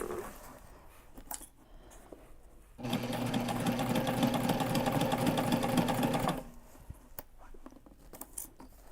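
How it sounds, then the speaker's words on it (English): Close and loud, a sewing machine stitches a heavy backpack from the inside in one continuous run of about three and a half seconds, framed by quiet fabric handling. "Sewing from the inside."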